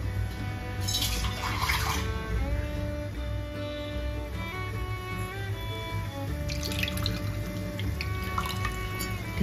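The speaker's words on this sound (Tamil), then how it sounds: "ஒரு 1/4 டம்ளர் வாட்டர் போட்டுக்கலாம்" Water is poured into a simmering small-onion vatha kulambu, making a steady, soft, continuous splashing trickle close by, with no talk.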